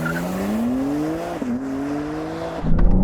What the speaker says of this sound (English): Left foot brake, floor the throttle.